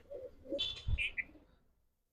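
Pigeons, including King Cobra and other fancy breeds, give a soft low coo with a few faint chirps, quiet and close in an otherwise hushed space.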